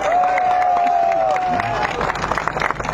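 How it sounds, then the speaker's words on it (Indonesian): A crowd of plantation workers and residents at an outdoor gathering with a government task force breaks into applause. A high whistle-like tone sounds first, then scattered clapping and crowd murmur build over voices. "Tepuk tangan."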